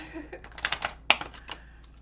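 Quick, crisp flutters and taps of tarot cards being shuffled up close, a rapid burst with a sharp snap near the middle.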